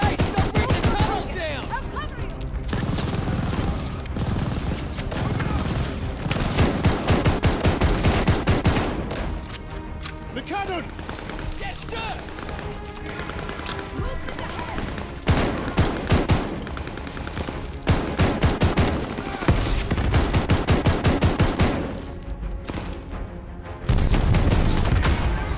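Heavy, continuous battlefield gunfire in the Call of Duty Vanguard campaign, with dense automatic bursts, rattling shots and occasional booms, while a voice speaks at times over the din.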